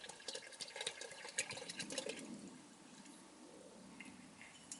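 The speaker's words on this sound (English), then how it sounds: "We're going to pour it in to the 5 gallons of water." Water poured into a 5 gallon container of water, a splashing, gurgling stream that is busier early on and then settles into a softer trickle, quiet and close.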